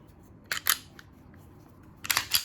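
Slide of a Glock 26 pistol racked during a safety check: two pairs of crisp metallic clicks and clacks, close and fairly quiet, separated by a short pause with no talking.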